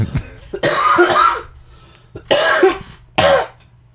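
Three loud, close coughs, each a harsh, throaty burst separated by short pauses, the first one longest.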